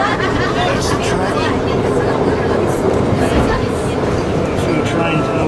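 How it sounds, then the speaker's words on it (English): A train runs along a track in Scotland with a steady, loud rumble and a rhythmic clickety-clack. Voices murmur under the noise throughout. "that's the train."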